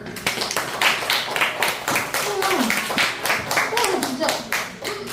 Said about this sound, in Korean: 할렐루야 박수.